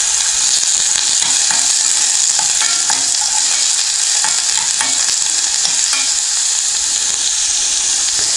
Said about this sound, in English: Just putting in my onions. Get all my onions in there.